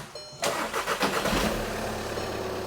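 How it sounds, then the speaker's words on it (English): A Volkswagen Jetta with a throttle body fault and a flashing glow plug light cranks and starts after a brief pause, then settles into a steady, close idle with a rough rhythmic pulse. "as you can hear, the engine is running"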